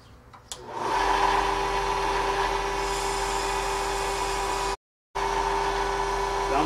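Steady motor-driven whir of a striker being sanded with 80 grit sandpaper, continuous and fairly loud with a brief cutout near the end, no talk.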